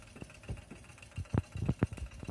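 A small Stirling engine runs fast, giving a quick irregular series of soft thumps and knocks up close over a low background hum.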